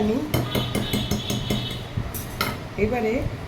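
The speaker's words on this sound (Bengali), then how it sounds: "এই আদা বাটাটা দিয়ে দিলাম, ভালো করে ফেটাবো" Ginger paste is beaten into a spice masala in a bowl for a chicken dish, giving repeated quick clinks and scrapes of a utensil against the bowl, fairly close and steady.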